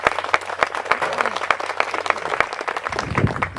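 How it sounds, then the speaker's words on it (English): An audience at an anniversary tribute event applauds, dense clapping from a crowd carrying on steadily, with a low voice murmuring near the end. "Can we give him a round of applause?"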